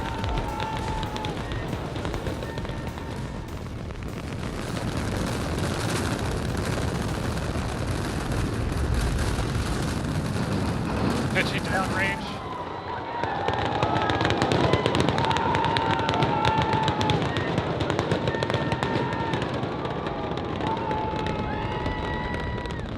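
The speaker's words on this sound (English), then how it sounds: "We have liftoff." A SpaceX rocket lifts off with a continuous, loud, crackling roar that holds steady, briefly dips, then surges back even harsher.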